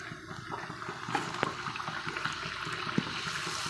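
Athirasam dough is dropped into hot oil to fry, giving a steady bubbling sizzle with small crackles and pops, fairly close and unaccompanied by talk.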